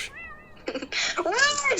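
A cat meows several times close by, with rising and falling cries that grow louder and more insistent toward the end.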